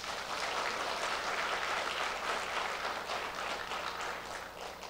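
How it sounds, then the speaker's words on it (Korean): Applause from a church congregation during a Friday night service, a steady, moderately faint wash of clapping lasting about five seconds with no speech. "박수 한번 쳐주세요."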